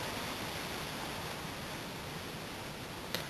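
A Mamod toy steam engine boiler gives off a steady, faint hiss as pressure builds, continuous and unbroken with nothing else heard.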